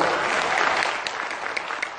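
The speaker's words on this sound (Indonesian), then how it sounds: "Tepuk tangan dulu ya." Applause from an audience at an indoor motivational talk, a dense burst of clapping that starts full and gradually tapers off over two seconds, heard alone without speech.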